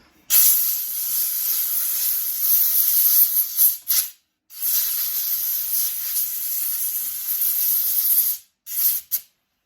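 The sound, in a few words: compressed air blowing out a Cobra's fuel pump area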